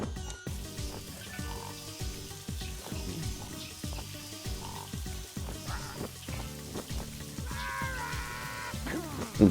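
A shower runs onto wooden boards in the game Neighbours from Hell, making a repetitive patter of splashing drips in a looping rhythm at moderate volume, with no one speaking.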